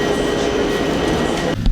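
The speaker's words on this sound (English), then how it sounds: "Just got on the train" A passenger train running from Poland to Berlin gives a loud, constant interior rumble with mechanical rattle. Near the end comes a brief clunk.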